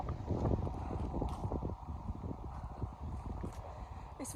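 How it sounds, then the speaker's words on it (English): Strong gusty wind blows through a park on an evening, buffeting the microphone with a low, uneven rumble that swells and eases in waves. "It's very windy, so you probably can't hear me"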